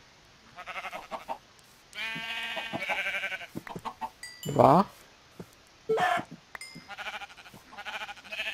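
Sheep bleat in the Minecraft Hexxit modpack, several short wavering calls close by, with one loud bleat standing out, scattered among someone speaking Czech.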